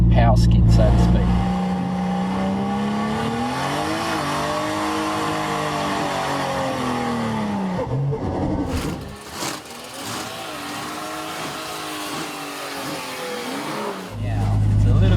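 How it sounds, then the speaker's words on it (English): A turbocharged car, a turbo taxi, doing a slow-speed straight-line power skid at the Summernats car festival: a loud engine note rising and holding, with tire squeal and roar before the engine drops away and builds again near the end. "where you can just pull off the side and do a straight line, slow speed, power skid, so to speak."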